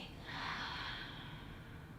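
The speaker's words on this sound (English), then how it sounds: "Keep exhaling." Slow, steady exhaling breath through the nose or mouth during a yoga practice, a soft continuous airy hiss lasting about two seconds, close and quiet with no talking.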